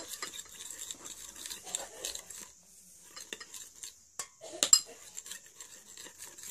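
A spoon stirs a homemade Nerunerune candy mixture in a small bowl, making quiet, uneven scraping and light clinks with one sharper knock, close up, with stretches of near silence between.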